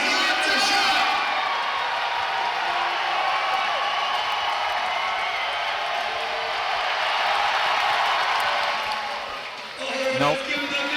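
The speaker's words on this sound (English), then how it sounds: "Give him that big round of applause, everyone" A large arena crowd at a strongman standing chest press event roars with sustained cheering and applause for a lifter, loud and continuous, fading briefly near the end before a final burst.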